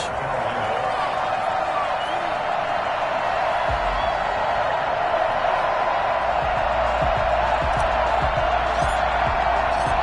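Stadium crowd noise from the Madden 21 football video game, Minnesota Vikings versus Carolina Panthers, forms a dense, steady roar throughout, with cheering blended into it and no breaks.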